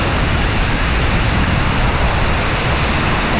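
Tamaraw Falls in Puerto Galera pours in a dense, continuous roar of falling water, loud and steady with no breaks and no voices.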